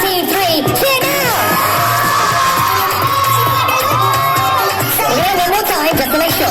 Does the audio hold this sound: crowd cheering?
yes